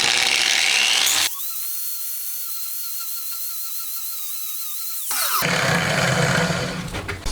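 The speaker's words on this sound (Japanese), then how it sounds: "グラインダーで平らにしときます。" Angle grinder flattening a fresh weld on a Honda Monkey engine part during a 124.4cc four-cylinder build, a loud steady high whine for about four seconds between bursts of broadband shop noise.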